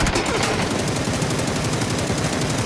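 Rapid bursts of automatic gunfire in the video game PUBG crackle continuously, loud and close, with a harsh mechanical rattle and no talking.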